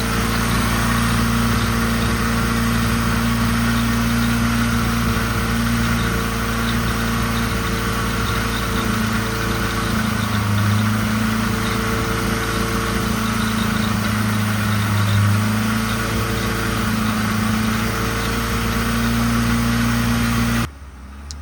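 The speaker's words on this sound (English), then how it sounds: "The engine ended up running nice and smooth" A VR6 car engine idles smoothly and steadily, a constant low hum that runs unchanged before cutting off at the end.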